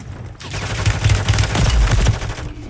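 Dense bursts of automatic gunfire in Call of Duty: Warzone, loud and close, a rapid rattle of shots with heavy low thumps lasting a couple of seconds.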